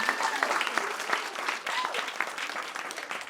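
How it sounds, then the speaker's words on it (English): A stand-up comedy audience claps steadily, a dense wash of applause with a few brief voices mixed in, sustained throughout. "Round of applause"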